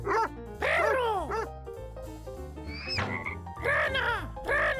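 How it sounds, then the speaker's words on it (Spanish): A cartoon frog croaks in a few short bursts, mixed with dog-like barks over background music, and a voice speaks briefly between the calls. "¡Rana! ¡Rana!"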